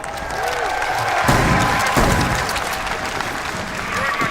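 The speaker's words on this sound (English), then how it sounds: "Give yourself a round of applause." A large esports crowd at a Rainbow Six Siege finals event in Atlanta applauds loudly and continuously, a dense wash of clapping with some cheering throughout.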